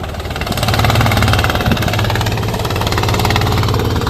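A fishing boat's engine heading out to sea runs loud and steady, a continuous low mechanical drone with a rough, knocking throb and no voices.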